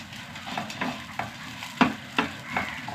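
Grated coconut dry-roasting in a pan without oil, with a sprig of curry leaves, gets stirred in soft, irregular spatula scrapes over a faint crackle, with one sharper scrape standing out near the middle.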